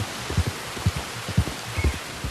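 Steady rain hiss in Red Dead Redemption 2, with soft, irregular low thumps of drops, fairly faint and continuous, no voices.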